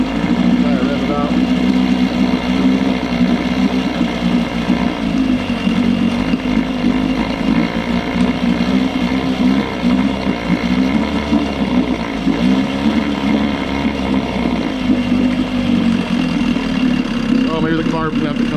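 A Johnson 6hp outboard motor with a lean running condition, droning steadily and loudly up close at a fairly even pace with slight fluctuation, while a person talks over it.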